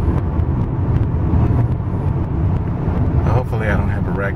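Car cruising on Interstate 85 with a steady low road and engine rumble, while a driver talks over it from inside the cabin.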